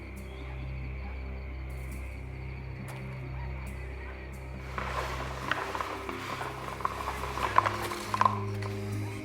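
A wrench turns a winch mechanism in the 2013 adventure game Secret Files: Sam Peters. A low hum runs beneath, then a run of close, uneven metallic ratcheting clicks starts midway and keeps going to the end.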